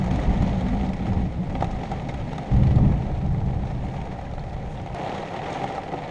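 A thunderstorm with rain and hail over Nebraska, heard from inside an RV: a steady, dense roar of rain with low rumbling underneath and a louder, heavier surge midway, with no voices.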